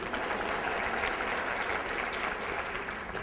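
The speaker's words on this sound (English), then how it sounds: "Clap if you know what I'm talking about." A live audience claps loudly and steadily at a talk, a dense, even wash of applause that holds throughout with no voices over it.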